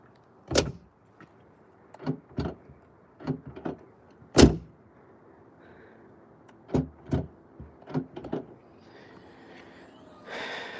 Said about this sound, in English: close the latch, close the door,